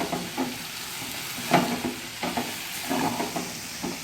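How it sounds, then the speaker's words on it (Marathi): Cabbage vegetable curry stirred in a pan after the lid comes off, a gentle sizzle under irregular scraping and clacking of a spoon against the pan, one sharper knock midway. "झाकण काढून बाजूला ठेवायचं आणि भाजी व्यवस्थित हलवून घ्यायची"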